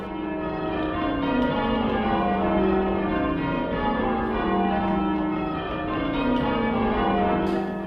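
Tower bells rung by a team of bell ringers, heard as a steady, continuous peal of ringing tones with overlapping sustained hums, loud and even throughout with no voices.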